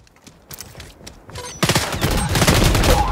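A P90 submachine gun fires in the shooter game XDefiant with scattered shots at first, then a loud, sustained burst of rapid automatic fire that builds and continues to the end.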